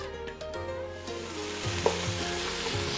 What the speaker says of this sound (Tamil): டொமேட்டோ, எல்லாத்தையும் போட்டு மிக்ஸ் பண்ணிக்கோங்க